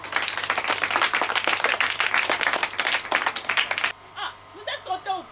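Audience applause from a group of children during a visit to an orphanage, dense clapping for about four seconds that stops abruptly, followed by a voice speaking.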